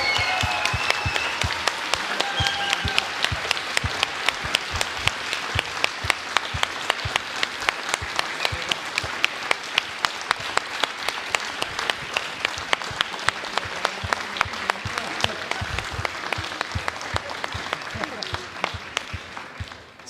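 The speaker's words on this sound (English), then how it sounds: "We're going to give one more round of applause to both winning teams" A large crowd at the Helsinki Challenge award party gives sustained, steady applause for both winning teams, dense overlapping clapping running unbroken for the full stretch without any voices standing out.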